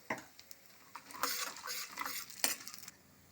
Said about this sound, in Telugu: ఇప్పుడు ఇలా పోపు వేగిపోయింది కదా